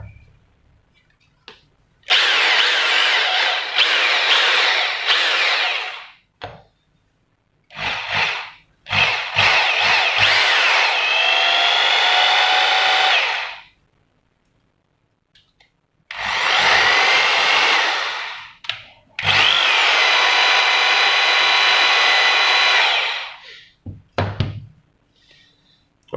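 A Makita rotary hammer drill in normal drilling mode runs in several long bursts of steady whirring, starting and stopping with short quiet gaps and a few thuds between.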